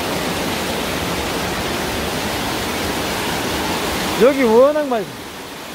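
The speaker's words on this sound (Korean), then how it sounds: "천정에서 물이 막 떨어지고 있어요." Water pours from the high ceiling of Hwanseongul cave as a loud, steady, hissing rush that fills the space; near the end someone speaks briefly over the roar.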